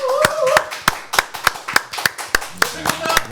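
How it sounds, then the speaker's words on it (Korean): A studio audience gives a few sharp, evenly spaced claps to welcome a science commentator guest onto a talk show, the claps close and crisp, with speech over them. "박수로 환영하겠습니다."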